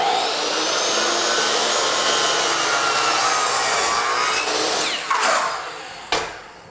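Power saw cutting wooden trim for an outside corner on door, window or baseboard work, a steady loud whine through the cut that winds down near the end, followed by a brief knock.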